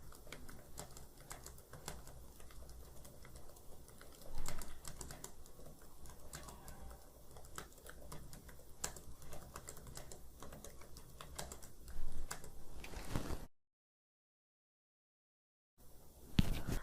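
Rapid typing on a computer keyboard during a typing practice session, steady dense clicking for about thirteen seconds, then a pause of silence before a few more keystrokes resume.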